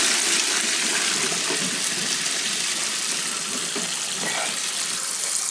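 Kitchen tap water running in a steady, loud rush while cooked pasta is rinsed for a pasta salad, continuous and close throughout.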